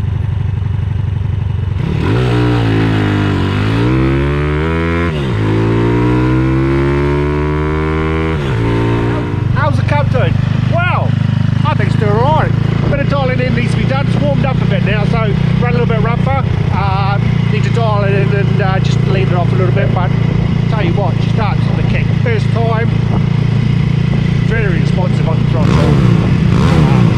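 A Honda Cub C150 motorcycle with a 150 pit bike four-stroke engine and a Smart Carb 2 fitted starts with rising and falling revs, then runs steadily while riding, loud and close, with a rattling clatter and a person talking over it.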